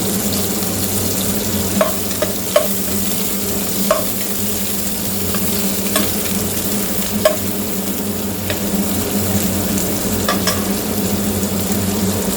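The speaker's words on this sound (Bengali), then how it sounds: "এবার হচ্ছে আমি পেঁয়াজগুলো ভেজে নেব।" Onions frying in a pan with a steady crackling sizzle, stirred now and then with a few sharp scrapes and taps of the spatula, close and fairly loud with no talking.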